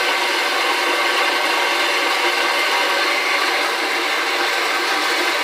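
A cutter slicing through a rear axle shaft for a 1955 Chevy gasser build, a continuous loud, hissing grind with no breaks from start to finish.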